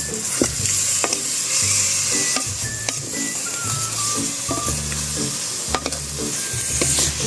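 Pork frying in a pan, giving off a steady loud sizzle with repeated stirring scrapes and clanks throughout and no speech.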